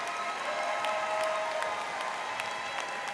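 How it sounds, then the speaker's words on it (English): Audience at an end-of-year school awards assembly applauding campus paraprofessionals, a sustained, even roar of many hands clapping with a faint murmur of the crowd beneath. "Can we give them a round of applause?"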